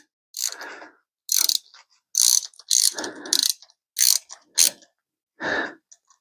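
A hand ratchet tightens a part on 49mm forks from a 2022 Kawasaki KX450 motorcycle, with about eight separate short bursts of close, loud clicking and brief pauses between them.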